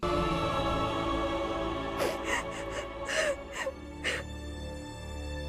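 A woman cries in a Hindi television drama, with a few short sobbing, gasping bursts near the middle over steady background music, fairly close.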